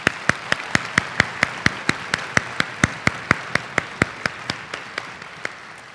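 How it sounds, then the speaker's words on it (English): Rhythmic clapping at a middle school honors orchestra concert, a steady even beat of sharp claps, about three or four per second, over a quieter bed of scattered applause, easing off toward the end. "I want to give a huge round of applause to our wonderful Arlington orchestra teachers"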